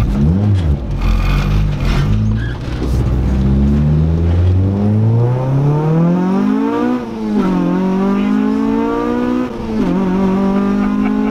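A K-swapped Honda Integra GSR four-cylinder revs hard while driving, its loud nasal engine note climbing through the gears with short dips at each shift, close and continuous.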